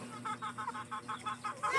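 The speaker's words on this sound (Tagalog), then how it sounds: "At yan ay ang mga alaga nating mga manok." A rapid series of about ten short clucks in a steady rhythm, close by, with a low hum underneath and a rising noise at the end.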